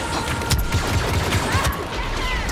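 Video game gunfire: rapid bursts of loud shooting that crack out again and again, like machine-gun fire mixed with sharper single shots.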